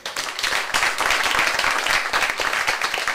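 An audience at a youth launch event in Grenada breaks into a burst of dense, sustained clapping that stays loud throughout and fills the room.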